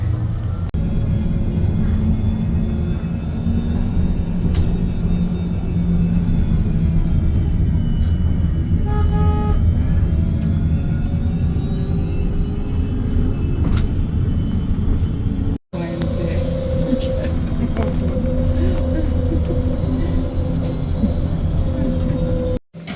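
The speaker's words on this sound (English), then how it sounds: "I highly recommend this if any of you ever come here to just take the city bus." Riding inside a city bus through Hanoi traffic: a continuous low engine and road rumble with rattling cabin noise, brief tonal whines and occasional horn toots, running steadily throughout with short dropouts.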